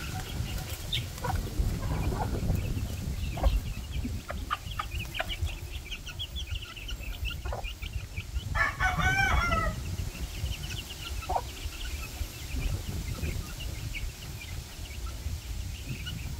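Rooster and chickens clucking on a backyard farm with hatching chicks, steady clucks and calls with a louder crowing burst midway, over constant outdoor noise.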